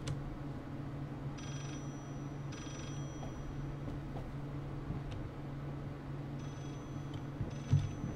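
A telephone in the Layers of Fear video game rings in short repeated bursts with pauses between them, faint against a low ambient hum, and nobody speaks.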